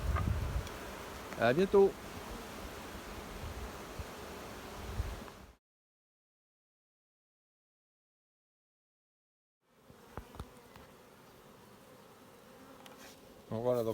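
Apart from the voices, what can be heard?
honey bees buzzing at a hive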